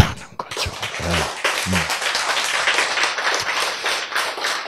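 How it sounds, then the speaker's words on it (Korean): A lecture audience bursts into sustained, dense clapping that fills the room for several seconds, following a brief voice at the start. "왜 생기를 받아서 박수를 쳤어요?"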